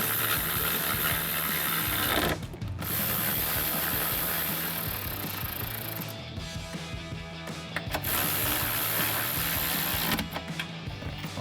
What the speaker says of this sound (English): Ratchet, 13 millimeter socket,